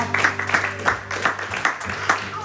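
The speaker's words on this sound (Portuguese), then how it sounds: "Aplaude o Senhor aí no seu lugar" A church congregation applauds at the close of a service, a loud, uneven patter of clapping with rhythmic peaks, over a sustained musical tone underneath.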